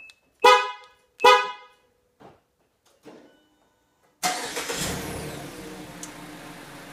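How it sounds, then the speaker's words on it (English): A 2016 Mazda CX-5 starts remotely from its factory key fob: two short horn-like chirps, a couple of faint clicks, then the engine cranks and catches into a steady idle close by. "All you have to do to start this vehicle is press the lock button 3 times."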